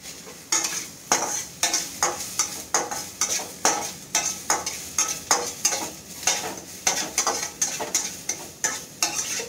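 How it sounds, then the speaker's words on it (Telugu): Onions, green chillies and curry leaves fry in hot oil for a ridge gourd curry tempering: steady close sizzle broken by regular, rhythmic scraping strokes of a stirring spoon against the pan, with no voices. "ఉల్లిపాయలు, పచ్చిమిరపకాయలు అన్నిటిని కూడా మనం వేయించేసుకుందాము."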